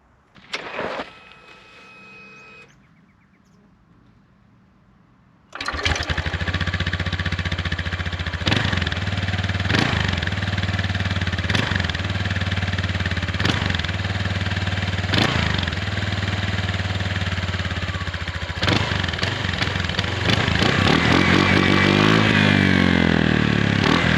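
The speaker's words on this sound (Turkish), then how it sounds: "bu motosikletin stok üzerindeki egzozuyla sesi müthiş" An Arora Max T motorcycle with stock exhaust fires up after a brief starter whir, then idles loudly with a deep, steady rumble and occasional revs near the end.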